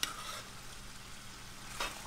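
Meat for Cajun jambalaya caramelizing in a pot, a soft continuous sizzle with an occasional scrape as a flat-edged spoon stirs, heard close with no talking.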